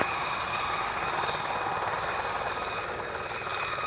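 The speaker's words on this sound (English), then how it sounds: "there will be helicopter traffic landing on 27 threshold" A helicopter arriving to land on the runway threshold at the Royal International Air Tattoo airshow gives a steady, loud rotor and engine drone that holds constant throughout, with no talking over it.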